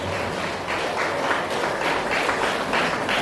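Sustained applause from a lecture audience in a hall, steady rippling clapping from many hands throughout without any speech.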